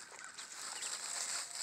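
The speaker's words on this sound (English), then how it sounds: "You crazy chicken." A free-ranging backyard chicken in a small flock clucks softly and faintly, a brief low murmur of hen sounds against outdoor background noise.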